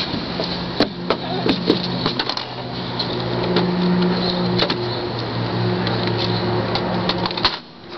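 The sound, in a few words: loading a gun with a cartridge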